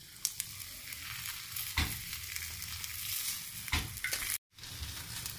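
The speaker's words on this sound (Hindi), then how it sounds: "तो अब तवा भी हमारा गर्म है, तो उसमें हम थोड़ा सा तेल डाल देंगे।" An onion paratha fries in oil on a hot griddle over a low flame, giving a soft, continuous sizzle with light stirring and scraping touches and a brief silent gap near the end.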